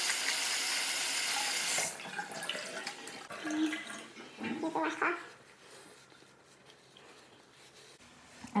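Water runs from a sink tap as a washcloth is rinsed, starting as a loud steady stream and then breaking into uneven splashes and wringing drips that fade away.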